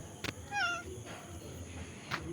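A gentle, obedient house cat gives a single short meow, faint against a steady background hiss, with a soft thump just before it and nothing else around.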